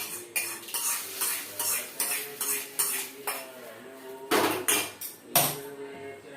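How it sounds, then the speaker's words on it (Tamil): Mustard seeds tempered and poured into hotel-style coconut chutney: bursts of sizzling and crackle with a spoon repeatedly clinking and scraping against a metal vessel, close and fairly loud. "இப்போ இதை கடுகை இதில் தாளிச்சு கொடுப்போம்"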